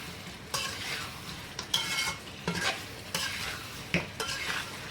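Chicken karahi masala is fried and stirred in a pan, with sharp scraping stirs recurring about once a second over a low, continuous sizzle, close up and without speech.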